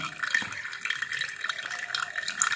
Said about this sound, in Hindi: बबूल की फली का जो पानी था वो हमने शक्कर के अंदर डाल दिया है।